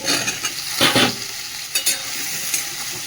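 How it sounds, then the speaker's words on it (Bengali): Potatoes and onions fry together in a pan, a steady close sizzle with a few louder bursts of stirring crackle and scraping, no voices. "আলু পেঁয়াজটা ভাজা হোক ততক্ষণ এদিকে মশলাটা রেডি করবো।"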